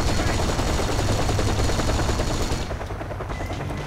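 Rapid bursts of automatic gunfire fired at an attacking helicopter in the Kane and Lynch: Dead Men video game, loud and dense, with the helicopter rotor droning underneath and the firing thinning out near the end.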